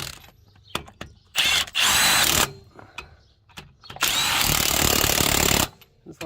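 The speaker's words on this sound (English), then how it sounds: "I'm using my Milwaukee Fuel 1/2-inch drive impact" Two loud, sustained bursts of a Milwaukee Fuel 1/2-inch drive impact wrench hammering lug nuts on a 2003 Chevy Avalanche wheel, with short clicks and taps between them, close up.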